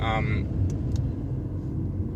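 Car on the road, a continuous close low rumble of engine and tires filling the whole moment, with a person speaking briefly at the start.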